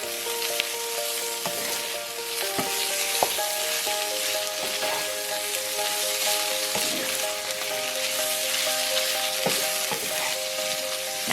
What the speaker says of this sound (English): Stir everything together, combining all those wonderful flavors.